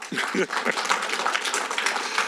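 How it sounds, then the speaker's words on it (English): Applause from attendees at a city waterfront environmental committee meeting swells after a brief spoken moment at the start, then carries on as a dense, moderately loud wash of clapping. "Give yourself a round of applause"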